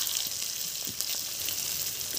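Close, quiet sizzle of green chillies and black cumin frying in hot oil in a kadai, an even hiss broken by a few soft pops and spatters, with no voices.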